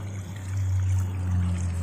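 Water pours steadily over toy vehicles such as a toy fighter plane being washed, a soft continuous splashing stream over a low background hum, with no talk.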